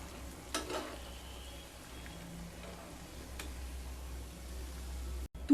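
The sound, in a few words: jalebi frying in oil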